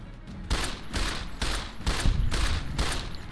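Rapid bursts of automatic gunfire from the Fallout video game (Tale of Two Wastelands mod), five or six loud close volleys with brief gaps between them and no talk over them.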